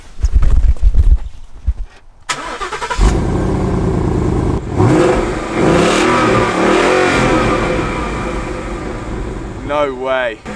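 A Ford Mustang with a 5-litre V8 fires up with a loud crank and bark, then settles into a lumpy, burbling idle with bursts of revving, while people talk nearby.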